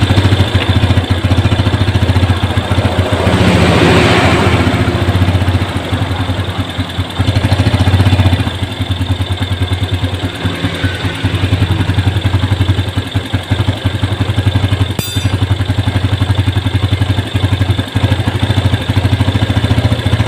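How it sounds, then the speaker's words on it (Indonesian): Yamaha Jupiter Z1 motorcycle with a weak starter, kick-started after a battery replacement: a steady, close engine running the whole time, with a brief rougher burst near the start and no talk. "Oke, ini akan saya selah dulu motornya."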